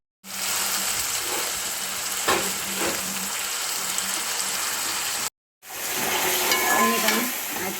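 Onions and curry leaves fry in a pan, giving a steady close sizzle with occasional stirring scrapes, broken by a brief silent gap before the frying resumes.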